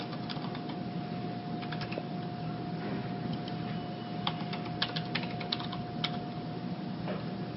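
Keystrokes on a computer keyboard as someone enters a login, a steady scatter of light clicks with a few sharper taps, close by over a constant background hum.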